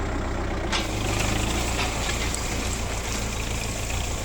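A tractor engine runs steadily during a field trial of a cotton-stalk puller, a loud continuous diesel drone with rumbling low end and a hissing edge, close by and unbroken.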